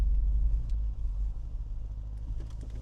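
A 2023 Audi RS Q8, the 591-horsepower family SUV, driving along with a steady low engine rumble heard from inside the cabin, moderately loud and without talk.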